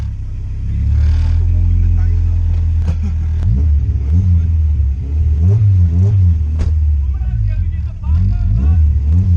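Modified car on slick tyres revs hard in repeated rising and falling bursts, loud and close, with sharp pops between revs while people shout nearby.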